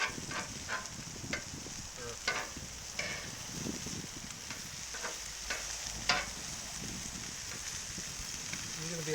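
Scallops sear on a Cuisinart 360 XL griddle, giving a steady close sizzle with scattered pops and crackles. Intermittent scraping bursts of a spatula cut through at irregular intervals.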